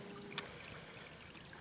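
Water flows over sloped rock at Little Falls in Rusk County's Blue Hills, a faint, steady outdoor wash with a single brief splash-like tick near the start.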